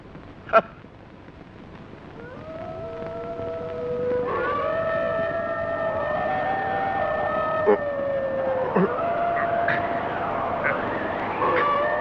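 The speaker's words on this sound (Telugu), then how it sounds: "నక్కలు కూస్తున్నట్టున్నాయి." Several jackals howl at night near a fort in a film scene, their long, wavering, rising and falling cries overlapping in a chorus that swells louder after a sharp knock at the start.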